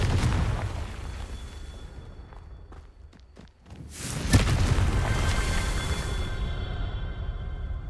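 A Confringo blasting curse explodes in Hogwarts Legacy: ambient rumble dips, a few quick clicks, then a loud booming burst that swells and lingers as a broad roar for several seconds. No one speaks.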